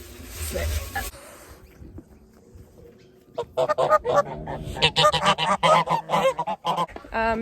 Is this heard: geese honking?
yes